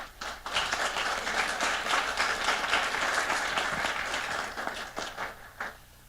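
An audience at a panel event on FCPF results and REDD+ in Colombia applauds the participants, giving dense continuous clapping that fades after about five seconds, with scattered last claps.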